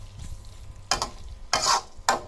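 Chopped large onions hit a hot pan with bursts of loud sizzling, three sharp frying surges over a low background rumble, close by.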